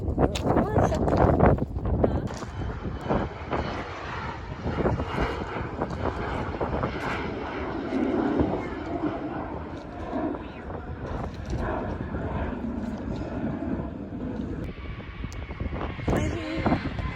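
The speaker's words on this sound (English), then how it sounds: "The plane is taking off." An airplane takes off at Philadelphia International Airport, its engine roar a steady, broad rumble at moderate distance, with wind buffeting the microphone and people talking over it.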